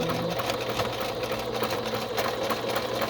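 A sewing machine stitches a strip of fabric snippets onto muslin, its fast, even mechanical whirr running steadily and close up for the whole stretch, with no voices.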